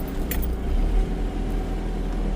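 A 4x4 car engine pulls steadily up a steep mountain slope off-road, a continuous low rumble holding near and fairly loud throughout with no voices over it.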